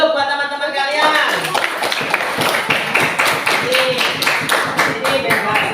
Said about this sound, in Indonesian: Tepuk tangan dulu buat teman-teman kalian.